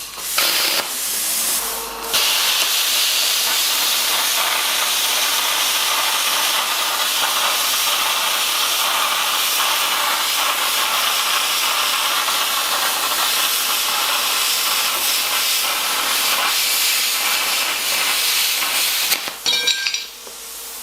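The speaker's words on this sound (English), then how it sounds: "If you're lucky enough to have a plasma cutter, they're a very efficient tool to use." A plasma cutter slices through steel for a geodesic steel vase, its air compressor feeding a steady, loud hiss. The harsh rushing runs almost without break for about seventeen seconds, with a brief pause near the start and a stop near the end.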